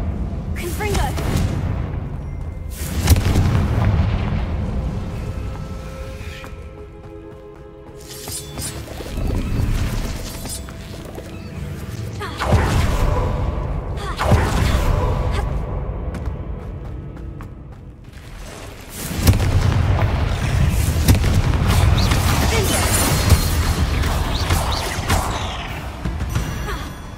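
Spell blasts from the Confringo fire curse erupt in a game tomb strewn with bones, several loud booming crashes with creaks and whooshes separated by quieter gaps, mechanical rattling in between.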